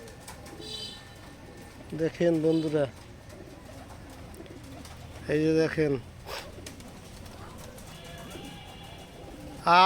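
Pigeons feeding on scattered wheat alongside a couple of chickens give two or three low, throaty coo bursts spaced several seconds apart, amid faint outdoor background and someone talking.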